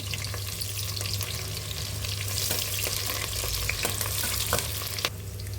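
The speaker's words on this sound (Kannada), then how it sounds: "ಎಣ್ಣೆ ಕಾದಿದೆ, ಸೋಂಪು, ಒಂದಿಷ್ಟು ಈರುಳ್ಳಿ ಫಸ್ಟ್ ಹಾಕ್ಕೊಂಡು ಚೆನ್ನಾಗಿ ಫ್ರೈ ಮಾಡಿಕೊಳ್ಬೇಕು" Onions and fennel seeds sizzle steadily in hot oil for a vegetable biryani, a dense continuous crackle with occasional scraping stirs, close and unbroken throughout.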